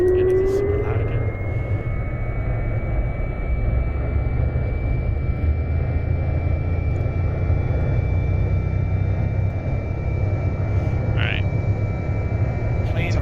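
Airplane engine in the X-Plane 11 flight simulator during an island-hopping flight over Michigan, a loud constant droning hum with a steady high whine running throughout, unbroken for over thirteen seconds.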